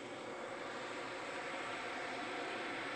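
Concorde 001 prototype supersonic jet taking off with engines in full afterburner at Toulouse, a steady, dense, broadband roar that stays loud and unbroken throughout, with no voices.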